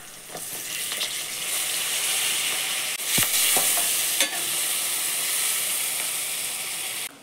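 Onions and curry leaves fry noisily in a pan, a dense steady sizzle and hiss close up, broken by a couple of sharp stirring clacks of a spoon against the metal.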